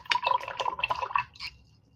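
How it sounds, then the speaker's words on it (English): A paintbrush is swished and rinsed in water while decorating a dough bowl, giving a quick, close run of small splashes and drips that fade out after a second and a half. "I'm going to wash my brush."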